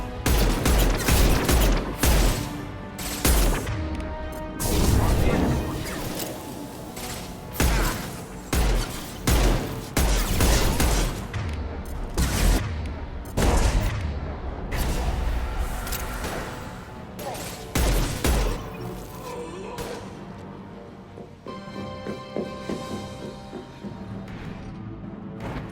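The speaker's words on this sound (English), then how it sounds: "Firing concussive shots!" Concussive shots and rapid gunfire in Mass Effect 2 come as loud repeated bursts of impacts and blasts, dense at first and sparser later, with game voices speaking over them.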